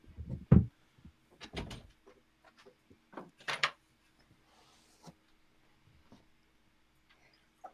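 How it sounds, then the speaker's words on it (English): A door being opened at home during a recorded conversation, with a few sharp knocks and clunks early on followed by quieter handling sounds, fairly close and with no talking. "She opened the door"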